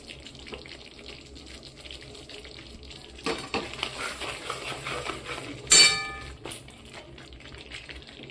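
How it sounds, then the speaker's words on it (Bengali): A white potato curry for Bengali dum aloo is sautéed in a pan with a little water, giving a steady close sizzle with scraping stir strokes, a louder clatter near the middle and a sharp burst of sizzling toward the end. "অল্প জল দিয়ে আর একটু কষে নেব।"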